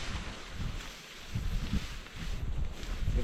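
Strong wind gusts at a campsite, a continuous rushing roar buffeting the microphone and swelling and easing in waves, with no voices.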